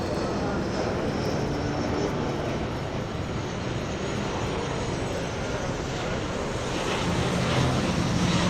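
A fixed-wing aircraft passes over the Donington Park race circuit with a broad, steady engine roar that holds for several seconds and swells slightly toward the end.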